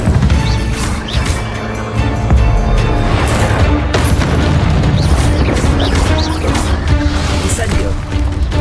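In Hogwarts Legacy on PS5, an Incendio fire spell bursts out as a loud, booming blast with crackling, rumbling fire and debris that carries on densely for several seconds amid other game sounds.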